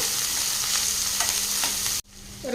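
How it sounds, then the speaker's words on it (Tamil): Chopped onion hitting hot oil with popped mustard and fennel seeds and curry leaves, a steady loud sizzle with scraping stirs that cuts off abruptly near the end before a fresh burst of frying. "ஒரு பெரிய வெங்காயம் கட் பண்ணி வச்சுருக்கேன் சேர்த்திக்கலாம் சேர்த்திட்டு கலந்து விட்டுடலாங்க"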